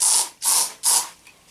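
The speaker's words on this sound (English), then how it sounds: "So I'll just spray a bit more of this." An aerosol can sprays in three quick, loud hissing bursts with short gaps between them, close up, while a Soviet GP-7 gas mask is being tested.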